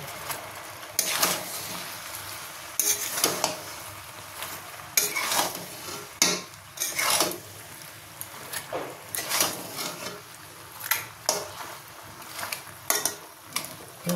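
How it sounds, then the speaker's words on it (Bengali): Fish head and pumpkin greens being stirred in a pan, a spatula scraping and knocking against the metal in repeated strokes over a soft sizzle, close and fairly loud, with no talking. "এবার একটু ভালো করে নেড়ে দেবো।"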